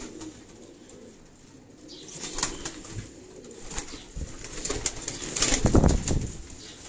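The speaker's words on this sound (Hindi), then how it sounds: "ये डॉक्टर साहब के जो उड़ने वाले उनके कबूतर हैं" Pigeons kept for flying take off from a rooftop in Karachi's Defence area, wings clapping and flapping in bursts that build and grow louder toward the end, with soft cooing and outdoor background noise.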